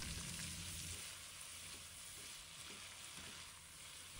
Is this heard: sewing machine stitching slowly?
no